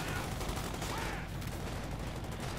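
Rapid gunfire from infantry battling paratroopers in the WWII strategy game Company of Heroes 2, a dense continuous barrage of shots mixed with battle noise, with faint commentary underneath.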